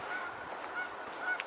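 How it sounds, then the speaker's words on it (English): A chorus of geese honking at a distance from a pond, overlapping calls that carry steadily, with one sharper honk near the end. "I don't know if more geese are coming in or if they're just vocalizing from the pond."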